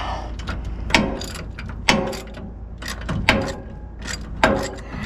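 A ratchet loosens a nut on a 1982 Dodge Ramcharger W150, giving rhythmic bursts of clicking strokes about once a second over a steady low background hum.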